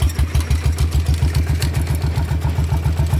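A walking tractor's small single-cylinder engine, rigged with a dynamo for power output, runs with a steady rapid thumping beat close by, its revs picking up slightly.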